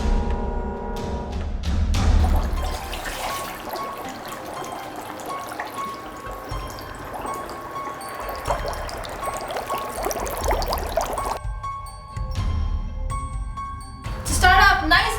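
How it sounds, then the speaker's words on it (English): Blood-red fruit punch for a Halloween party pours in uneven liquid splashes and trickles, with brief pauses and clinks near the end, loud and close. "All you have to do is pour in your juicy, bloody fruit punch to your guests"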